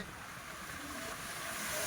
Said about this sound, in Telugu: అటు నుంచి వచ్చే అలలు పైనుంచి వచ్చే అలలు